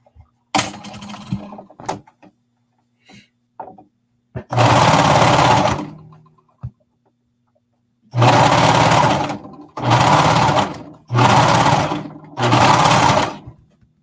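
A sewing machine stitches a knit skater dress in close bursts: brief sputters first, then one long run and four steady separate runs with quiet pauses between.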